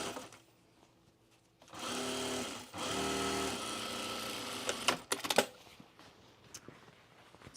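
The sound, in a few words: sewing machine stitching fabric for a gift bag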